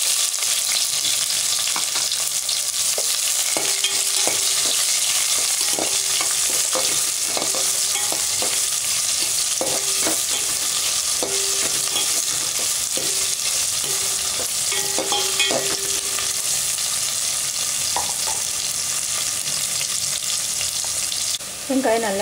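Onions frying in a pan for rohu fish curry give a loud, steady sizzle, with a spoon scraping and tapping against the pan at intervals as they are stirred.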